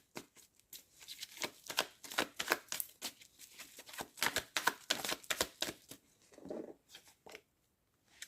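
Tarot cards being shuffled and drawn, a quick run of crisp, papery riffles and flicks repeating close up for several seconds, with a softer pause and a few last snaps near the end and no talking.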